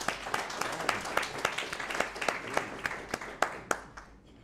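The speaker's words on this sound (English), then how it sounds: "Yes, clap for him." Audience applause at a talk on cyber misinformation, a moderate spread of individual claps with several sharp louder hits, fading out at the end.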